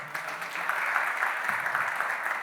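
An audience claps in a brief burst of steady applause, moderately loud and even throughout, with no voice over it.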